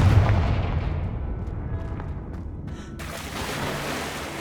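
A Confringo blasting spell cast in Hogwarts Legacy: a deep booming blast with a rumbling low tail that fades over a few seconds, followed by a short burst of brighter crackle near the end.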